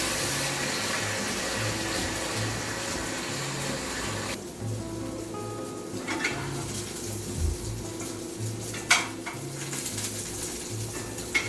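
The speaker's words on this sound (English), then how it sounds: "Washing my hands for 30 seconds." Tap water runs steadily into a kitchen sink while hands are washed, with a constant close splash that softens halfway and light clinks of dishes.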